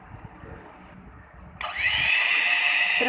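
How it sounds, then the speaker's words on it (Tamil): An electric beater whirs steadily as it beats eggs with icing sugar for a honey cake, starting abruptly partway through and running loud and continuous to the end after a quieter stretch of faint kitchen noise. "இப்போ ஐசிங் சுகர் கொஞ்சம் கொஞ்சமாக ஆட் பண்ணி நம்ம இதே மாதிரி பீட் பண்ணிக்கலாம்."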